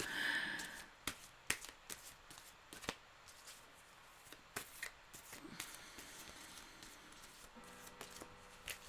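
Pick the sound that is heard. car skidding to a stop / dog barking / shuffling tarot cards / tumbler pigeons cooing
shuffling tarot cards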